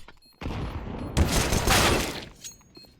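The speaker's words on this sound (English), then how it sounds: "Throwing a grenade." A grenade is thrown and bursts in a CS:GO match on the Train map: a sharp blast erupts and rolls into a dense, crackling roar that swells for over a second before fading into scattered faint game noise.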